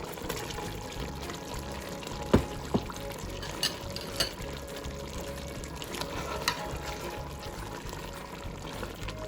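Chopped tomatoes being stirred into biryani cooking in a pot, a steady wet churning and sizzling texture with a few sharp clinks of the utensil against the pot, close and fairly quiet, no talking.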